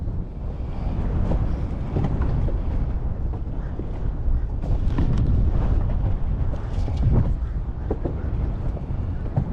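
Strong wind buffeting a microphone on a lake while fishing from a boat in winter, a continuous heavy low rumble with gusting surges, loud and close, with some faint voice beneath.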